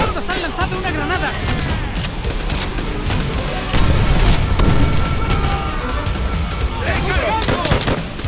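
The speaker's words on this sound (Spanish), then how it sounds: "¡Los bastardos han lanzado una granada!" Explosions and gunfire in the World War II shooter Call of Duty: World at War, a grenade blast swelling into a loud boom midway amid sustained rifle and machine-gun fire, with shouted voices throughout.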